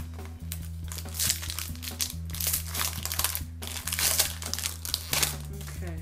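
Plastic packaging on a YoYoFactory Starbrite yo-yo crinkles and rustles steadily for several seconds, close by, over a low, looping musical backing.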